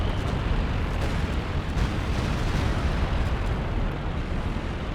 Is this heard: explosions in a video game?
yes